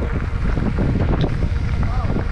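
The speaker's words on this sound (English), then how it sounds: "Oh, it gets so windy as you round that turn." Strong wind roars across a trail at Big Sky, a loud, constant buffeting rush with heavy low rumble from gusts hitting the microphone.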